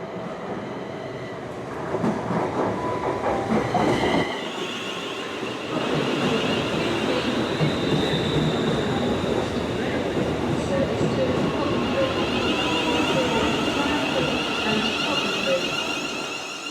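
A train pulls out of a station in Britain heading back to London. Its rumble and rolling wheel noise are loud and steady, with a squealing, whining tone running on top throughout.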